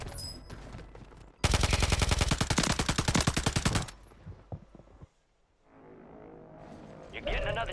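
Loud sustained burst of rapid automatic gunfire in Call of Duty Warzone, a dense rattling volley lasting a couple of seconds, followed by quieter game ambience, scattered thuds and a voice talking.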